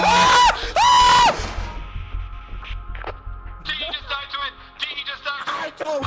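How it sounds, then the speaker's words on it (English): Shrill, wavering screams from a creature in Lethal Company, two loud bursts up front, then quieter shrieks and garbled voices trailing through the rest. "There's not a blob. It's something that's screaming."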